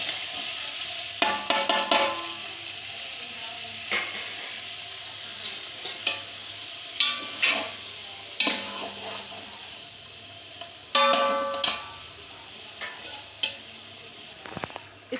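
Meat frying in a pot with ginger and garlic for Peshawari-style qabuli pulao, with soft sizzling under scattered clanks and scrapes of stirring, close and fairly quiet, no talking.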